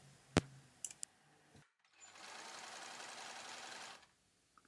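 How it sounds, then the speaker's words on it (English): A sewing machine stitches the front bodice of a wrap top, a steady whirring run of about a second and a half, preceded by a few sharp clicks and a brief pause. "it's ready to being sewn under the machine"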